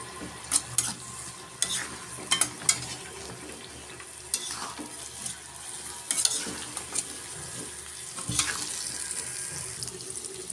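Dried fish paste frying in oil in a pan, quiet sizzling broken by irregular scraping and clinking stirs, with a wetter, noisier stretch toward the end.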